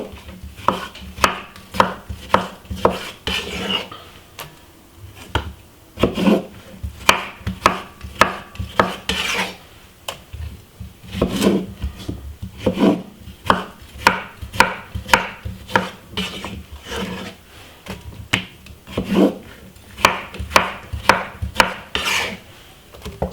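Knife chopping cucumber on a cutting board for a spinach salad: quick, crisp, irregular chops in bursts, close and moderately loud, with no voices.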